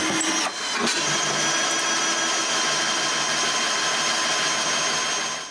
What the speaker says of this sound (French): j'avais oublié de faire les trous pour les boulons qui vont retenir le panneau en place.